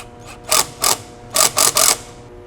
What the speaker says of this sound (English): Then we can pull that chuck, drop in our bit, and we are in place.